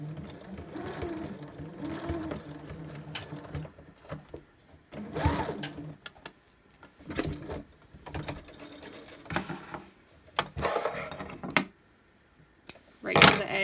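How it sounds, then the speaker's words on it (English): A sewing machine stitches a back dart in bursts, with the stitch length shortened near the dart point. Short runs of rapid mechanical whirring come and go with brief pauses between them, and quiet movement noises fill the gaps. "I reduce the stitch length and then continue sewing"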